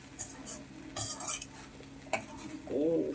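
A spoon stirs crumbled dosa in a metal pan for an evening snack, making scattered close scrapes and clinks in short bursts with brief pauses between them. No one speaks.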